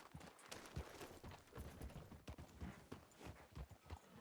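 Horse hooves clip-clopping in the Red Dead-based roleplay game WildRP, steady and fairly close, with a busy game soundscape and some crackle mixed in behind the hoofbeats.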